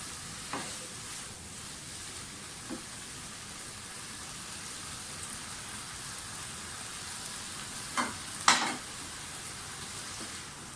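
Spaghetti and macaroni being stirred into a sizzling soy and chilli sauce with capsicum, giving a steady low frying hiss with a few soft scrapes and clinks near the end and no talking.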